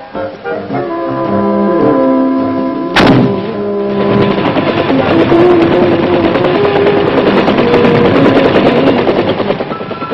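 Military weapons fired by Robert Mitchum in Vietnam, 1966: a loud, sharp blast followed by a sustained, booming rattle of fire under a heavy roar.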